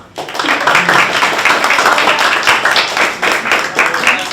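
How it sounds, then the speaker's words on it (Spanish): An audience claps steadily after a book presentation, a dense, close burst of applause lasting several seconds without speech. "Un aplauso."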